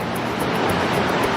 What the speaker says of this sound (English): That's a nice raging river